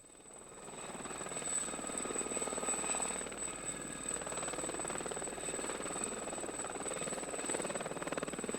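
Westland Lynx tactical helicopter flying in a display, heard as a faint, steady rotor and engine drone with a high whine, distant and continuous.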